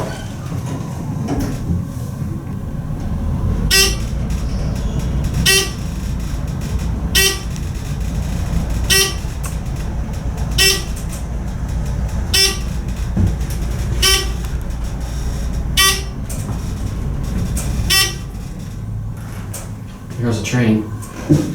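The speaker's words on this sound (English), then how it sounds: "Here's a train." A passing train sounds a series of short horn toots at irregular intervals, heard through a window from inside a glass elevator at a city parking ramp, over a steady rumble with faint talk nearby.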